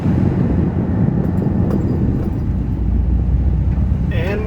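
A Nissan 350Z drives along a road with a steady low engine and road rumble heard from inside the cabin, loud and continuous, with wind noise and a voice briefly near the end.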